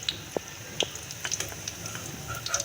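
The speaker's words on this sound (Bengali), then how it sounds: "এইভাবে করে সবগুলো আমি ভেজে দেব।" Fish egg chops fry in oil with a soft, close bubbling sizzle, broken by a few light clicks and scrapes.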